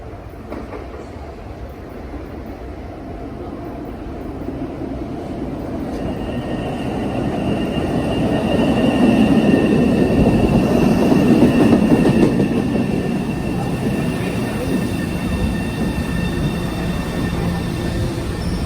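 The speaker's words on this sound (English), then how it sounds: "the next orange line train to Forest Hills is now arriving" An MBTA Orange Line subway train pulls into the station, a steady loud rumble of wheels and rail noise that swells to a peak midway and then eases as it slows, with no talk over it.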